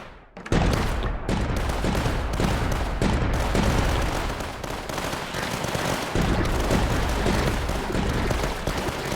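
Sustained gunfire from infantry units in the strategy game Tower Dominion, a dense continuous barrage of rapid shots and blasts that stays loud and unbroken throughout.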